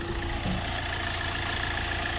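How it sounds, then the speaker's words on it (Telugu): A 2015 i20 Asta diesel car engine idles steadily with a low, even rumble and a faint whine, unchanging throughout. "బండి ఆల్రెడీ స్టార్ట్లోనే ఉన్నది"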